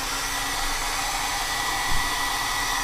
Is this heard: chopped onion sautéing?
no